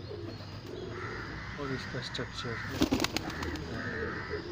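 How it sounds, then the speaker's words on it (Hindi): Pigeons kept for flying competitions coo softly and steadily beneath someone speaking Hindi close by. "ये कबूतर मैं आपको दिखाने चाह रहा था, दिखा दिए।"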